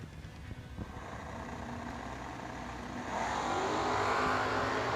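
The Mino Camino race car from Kentucky accelerates at a drag strip, its engine noise swelling from a distant rumble into a louder, brighter roar over the last couple of seconds.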